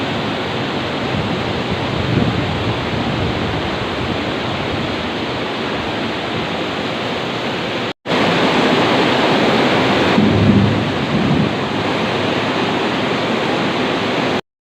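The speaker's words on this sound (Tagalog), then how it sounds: "Pauwi na nga sana ako kaso sobrang lakas ng ulan." Very heavy rain pours down steadily as a dense, loud roar filling the whole clip, broken only by a brief cut near the middle; no distinct thunder claps stand out.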